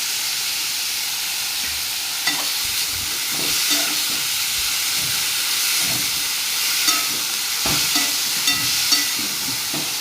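Cabbage sautéing in a pan over a low gas flame gives a steady soft sizzle and hiss, with occasional light stirring scrapes, close and continuous with no talking.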